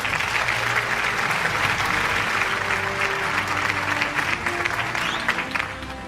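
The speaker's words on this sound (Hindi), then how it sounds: "भरपूर तालियां ख़ातिन और हज़रात" An audience at an annual award show applauds loudly and continuously, a dense wash of many hands clapping that holds steady before easing slightly at the end.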